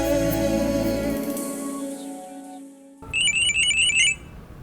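After a fading musical passage, a telephone rings with a rapid, trilling electronic tone for about a second, loud and close.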